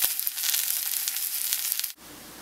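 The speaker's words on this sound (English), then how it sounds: "Now while the mushrooms are sauteing" Mushrooms sauté in a hot pan with a continuous bright sizzle and crackle, close up and fairly loud, ending in a sudden cut to a quieter hiss near the end.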